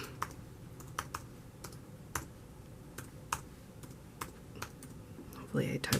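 Computer keyboard typed on close by while a website address is entered, a sparse run of sharp individual keystrokes with short gaps and a brief rustle at the end.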